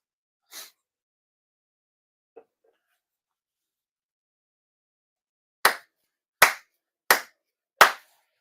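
Members of a congregation at a New Year prayer ceremony give four crisp ritual hand claps in an even, slow rhythm near the end, after a quiet pause broken only by a couple of faint isolated taps.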